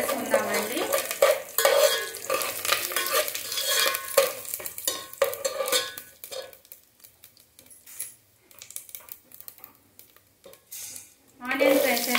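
Mustard seeds and curry leaves fry in a pan for Andhra-style uggani, with a steady sizzle alongside stirring and clinks of a utensil against the pan, busiest early and tapering before louder scraping returns at the end.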